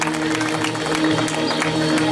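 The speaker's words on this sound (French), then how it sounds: "on peut les applaudir très très très fort" Crowd applause at a horseball competition in Crève-Cœur: a dense, steady wash of clapping from many hands with scattered cheers and voices mixed in, loud and continuous throughout.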